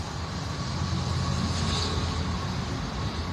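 Trains and street traffic passing across the street, a dense, steady low rumble with a faint higher hiss, heard from inside without any voices.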